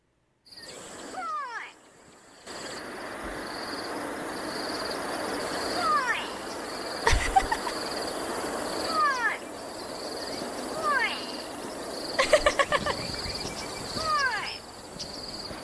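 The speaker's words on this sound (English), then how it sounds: "Gray go-away bird." Gray go-away bird calling outdoors in South Africa, repeated nasal downward-sliding calls at intervals over a constant insect drone, with a few sharp knocks and a brief rapid burst partway through.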